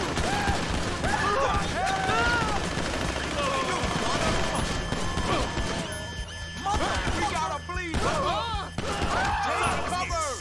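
Rapid gunfire rattles through a GTA 5 firefight, dense cracking shots and bursts near and loud, broken by short pauses, with someone talking over the action.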